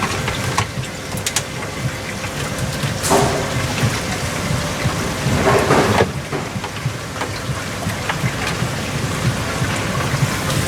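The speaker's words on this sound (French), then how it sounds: "on branche la pompe" Aquarium pump in a biopellet reactor on a marine tank starting up, a steady loud watery churn and hum with bubbling, plus a few sharp clicks and knocks, without talk.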